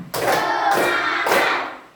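Students in a classroom clap out counted patterns, three sharp bursts of group hand claps spaced roughly half a second apart, each ringing briefly, with no talking.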